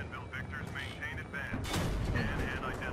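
Tank cannons fire in Battlefield 3 armored combat, with a heavy booming blast and rumbling aftermath. Voices talk over the game's battle noise.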